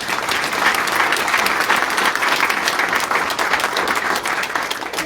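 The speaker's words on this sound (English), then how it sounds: "give Caitlin a big round of applause" Steady, dense applause from an audience at a school board meeting, continuing evenly throughout without pause or voices standing out.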